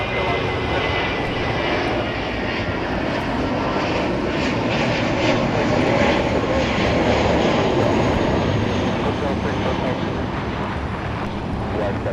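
An airliner taking off from LAX, a loud continuous jet engine roar with wind buffeting, held steady throughout as someone talks over it.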